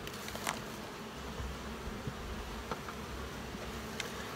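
Honeybees buzz steadily inside a multi-queen hive as they clean top-box frames ahead of honey storage, a dense close-up hum with faint scattered ticks throughout.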